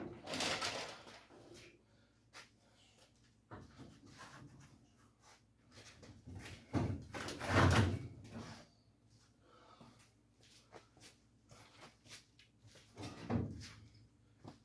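Doors are being taken off a 1951 Chevy truck cab, with scattered faint metallic clunks, knocks and rattles spread unevenly, several louder thumps standing out against a quiet background.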